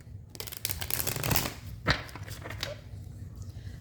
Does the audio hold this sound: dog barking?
no